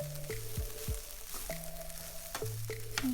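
Spices and toasted rice are stirred in a pot for Jamaican-style Spanish rice, a soft sizzle under light scraping strokes, close and moderately quiet, with brief tonal background sounds and no talk.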